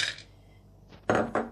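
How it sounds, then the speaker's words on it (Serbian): Pine nuts tumble into a food processor bowl for a nasturtium pesto, giving two short, bright clattering bursts near the end after a quieter stretch. "U multipraktik najpre stavljam pinjole"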